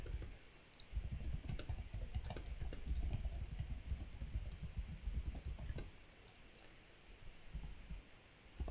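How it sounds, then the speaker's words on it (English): Computer keyboard typing during a Minecraft command session, with rapid irregular key clicks in steady bursts that thin out and slow near the end, close and moderately quiet with no talk. "Let me finish typing it"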